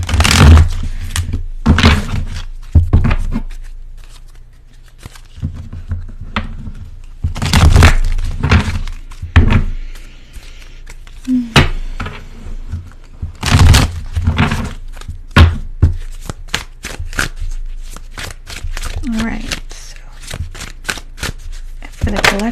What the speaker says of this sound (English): I'm gonna pull two cards